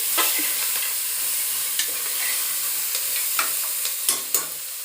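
Onions fry in oil for pulao while a spoon stirs them, a steady close sizzle broken by several sharp scraping and clinking strokes against the pot.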